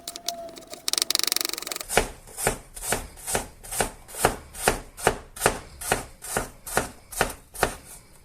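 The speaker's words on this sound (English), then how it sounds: "finely slice the apples, sort of like the onion" Apples sliced finely with a knife on a board, a steady run of about fourteen crisp, evenly spaced chops close up, with softer handling noise before the cutting starts.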